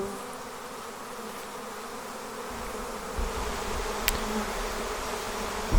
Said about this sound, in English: Now the bees are just zinging everywhere